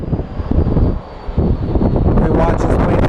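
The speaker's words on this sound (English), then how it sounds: "we watch this plane through" An airplane at Sky Harbor Airport roars past nearby, a loud continuous engine rush that dips briefly then builds again, with wind buffeting the microphone.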